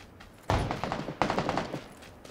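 Gunfire in PUBG on the Miramar desert map: two loud bursts of rapid automatic shots, each a quick rattling string of cracks, separated by a brief lull.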